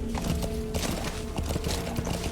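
Horse hooves clip-clopping at a steady trot in Metal Gear Solid V: The Phantom Pain, a continuous run of close, regular thuds under game ambience with a faint whinny.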